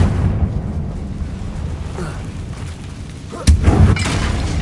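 A Confringo fire spell blasts in Hogwarts Legacy, a sudden bright explosive burst cutting through steady low ambient rumble near the end, with no talking.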